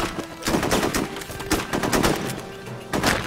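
Rapid bursts of automatic gunfire from squad combat in the video game Full Spectrum Warrior, loud repeated volleys in several clusters with short gaps between them.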